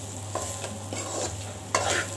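Eggplant sautéing on a low flame for Tamil mootu kathirikai kulambu, a soft steady sizzle with a few sharp stirring scrapes against the pan, close and alone without voices.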